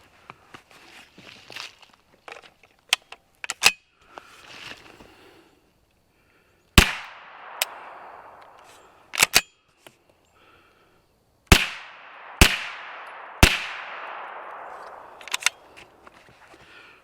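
Sharp gunshots from a Ruger PC Carbine, several single reports spaced a few seconds apart, each loud and close with a ringing tail, amid quieter clicks and handling noises.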